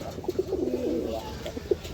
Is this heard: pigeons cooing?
yes